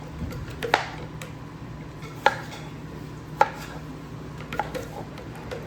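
A knife chops through cucumbers on a board as they are quartered for pickling, giving four sharp, separate cuts spaced a second or more apart over a low steady background hum.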